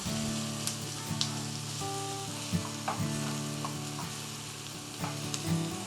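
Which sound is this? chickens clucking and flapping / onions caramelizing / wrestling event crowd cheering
onions caramelizing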